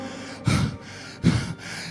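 Two labored, gasping breaths from someone struggling to breathe amid a persistent cough, each a sharp, heavy intake separated by a short pause, close and alone.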